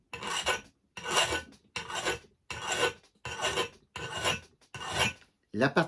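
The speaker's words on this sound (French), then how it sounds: "je prends une lime à fer et j'ôte la partie" An iron file rasps a large notch off an axe blade in about seven steady, evenly spaced strokes, loud and close, each followed by a brief pause, with no other sound.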